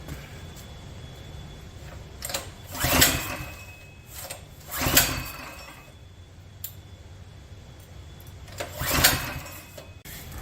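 Predator 212 engine in a Polaris quad cranked with a recoil pull, three or four sharp rasping pull bursts separated by pauses, with faint mechanical clinks between them.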